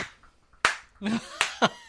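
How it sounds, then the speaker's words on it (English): Two people high-fiving in a radio studio: a few sharp, close hand slaps, one sudden crack followed by a couple more quick smacks, with a brief murmur of voice between them. "Lucas and I just keep high-fiving because this is so awesome"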